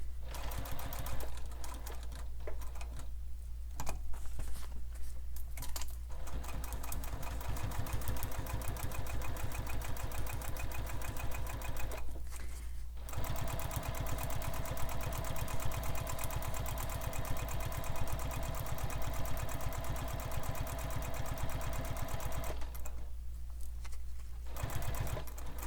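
A sewing machine topstitches a sling pack in long steady runs of rapid needle clatter and motor hum, broken by short pauses, close and moderately loud with no voices.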